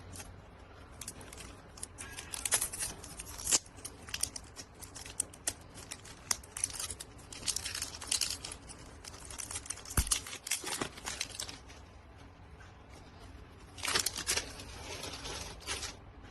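A WWF/WWE Raw Deal wrestling card starter deck is unwrapped close up, with soft irregular crinkles, tears and clicks of packaging coming in short bursts and pauses.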